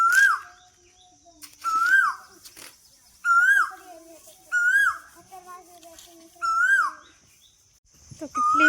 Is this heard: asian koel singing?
yes